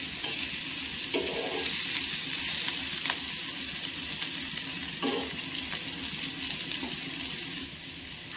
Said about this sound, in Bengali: হাই হিটে ভাজছি না, নালে পুড়ে যাবে।